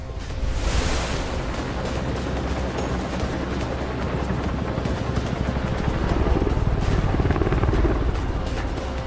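A helicopter flies over a deep, winding canyon in Zambia, its rotor and engine roar loud and continuous throughout, steady and close.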